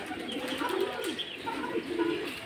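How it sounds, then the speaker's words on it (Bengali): Soft pigeon coos repeat through a steady outdoor background on a pigeon farm, several birds murmuring close by alongside chickens, with faint chirps mixed in. "এই যে আমার শখের কবুতরগুলা"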